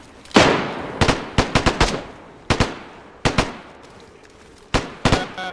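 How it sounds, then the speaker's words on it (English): Rifle gunfire in a PvP video game, loud sharp cracks in scattered bursts of one to four shots, some echoing, no talking. "You heard the rifle."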